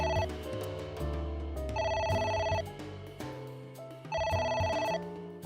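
A telephone rings in repeated bursts with short pauses between them in AI: The Somnium Files, loud and close, with no voices over it.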